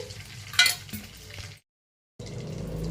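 Bay leaf and cumin seeds hitting melted butter in a pan with a soft crackling sizzle and a sharp clink of a spoon. The sound drops out briefly, then the frying hiss returns steady and close.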